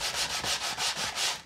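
A piece for a small DIY Japanese rock zen garden is rubbed by hand across standard sandpaper in quick, close, rhythmic strokes, about seven scratchy passes in under two seconds, with no voices.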